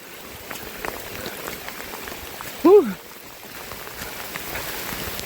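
Rain falling steadily on a mountain hiking trail between rest posts, a soft broadband patter throughout, with a brief rising tonal call in the middle that could be a bird or a voice.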